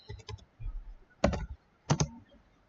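Keys clack on a computer keyboard as a Cordova command is typed, a few quick, crisp clusters of keystrokes separated by short pauses, close and alone.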